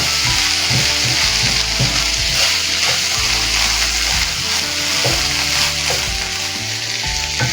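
Chicken sautés in a pan with a half teaspoon of salt for a cabbage salad, a steady dense sizzle and crackle holding throughout, close and loud, with faint stirring scrapes and no talk.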